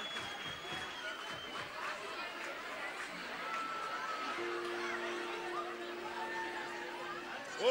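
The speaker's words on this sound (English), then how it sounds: "Oh, now we have a crowd." A crowd of students at a school Founders' Day event chatters and murmurs steadily at a moderate distance, with scattered laughter and a sustained instrument tone joining partway through.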